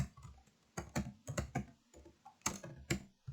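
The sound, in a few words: typing on a computer keyboard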